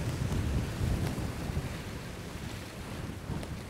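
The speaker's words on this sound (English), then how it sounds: "I can only manage that in between the gusts of wind" Strong gusts of wind buffet a rocky shore on the Isle of Skye, a loud continuous rumbling roar against the microphone that swells and eases slightly.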